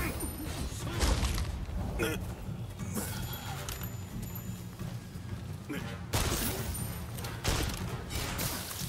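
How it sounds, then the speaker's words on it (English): Cannon fire in the video game Rise of the Ronin, several sharp booming blasts spaced a few seconds apart, under and between bits of talk. "You fire that cannon one more time."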